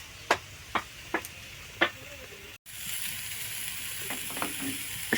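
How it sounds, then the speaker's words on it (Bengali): Maggi noodles cook in a pan. A few sharp utensil clicks come first, then a steady, close sizzling hiss takes over and holds to the end. "তাই জন্য ম্যাগি দুটো রান্না করছি"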